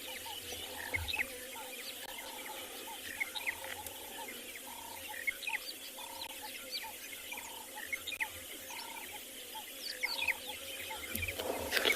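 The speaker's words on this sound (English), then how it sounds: "A lot of grass birds around us" Grass birds, including a monotonous lark, call around an open savanna at sunset: a steady, evenly spaced repeating note over a dense bed of distant chirps and twitters, moderately near.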